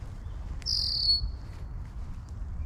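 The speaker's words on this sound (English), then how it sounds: "That's that red-winged blackbird." A red-winged blackbird calls outdoors during a search for garter snakes, giving one clear, high whistled note that lasts about half a second over a soft, low wind rumble.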